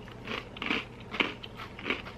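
Crunchy, sweet, crouton-like snack pieces from a snack box are chewed close up in four distinct crisp bites spaced about half a second apart, with no talking.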